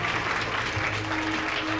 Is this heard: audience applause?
yes